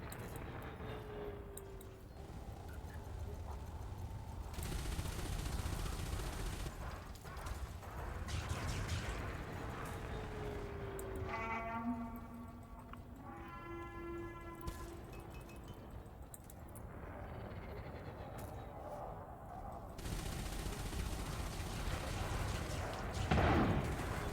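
AX multi-cannons fire in Elite Dangerous during an anti-xeno fight against Thargoid ships, a dense continuous mechanical rattle under game effects, with rising and falling tonal sweeps in the middle and no talking.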